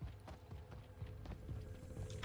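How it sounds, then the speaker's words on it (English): Player footsteps in Call of Duty: Warzone, a faint, rapid series of soft thuds pattering steadily, as if running on the ground, quiet and somewhat distant with no voices. "Were those my footsteps we heard?"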